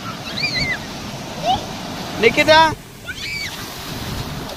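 Sea waves wash steadily on the beach at Puri, with wind rumble on the microphone, while a voice calls out over the surf.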